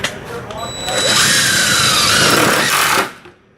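A power drill drives a #12 one-inch self-drilling screw into a school bus panel while a stop-arm hinge plate is mounted, producing a loud, steady whine that builds and runs about two seconds before stopping abruptly.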